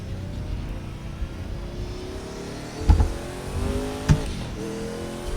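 A GT3 race car engine in Project Cars 2 online racing, revving and shifting through rising gear pulls with brief bumps and tire noise, moderately loud with no talking.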